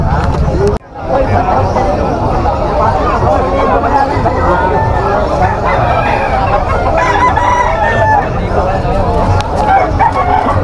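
Roosters crow repeatedly amid clucking chickens at a busy pet market in Malabon, loud and close, with a constant babble of people talking in the background.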